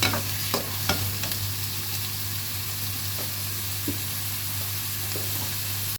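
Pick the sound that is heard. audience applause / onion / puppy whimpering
onion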